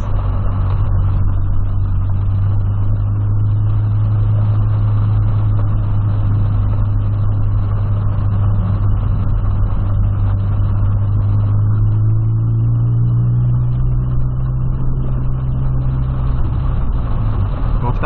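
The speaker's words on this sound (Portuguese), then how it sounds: "Porque o carro baixo ainda passando essas águas aí, essas enxurradas." A lowered Volkswagen Polo drives through rain runoff and floodwater, its engine a loud steady drone that rises slightly in pitch near the end, with constant wash and road noise throughout.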